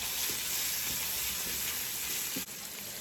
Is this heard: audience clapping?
no